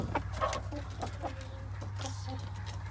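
Fluffy chickens cluck softly in a winter coop with a heater, giving short scattered clucks and calls over a low steady hum.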